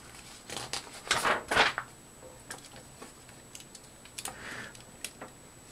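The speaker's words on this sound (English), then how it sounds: "this foot guard actually clicks into place" A plastic foot guard on a 1/60 Perfect Grade Unicorn Gunpla model kit is handled, with a few close, crisp clicks and light plastic ticks as it snaps into place.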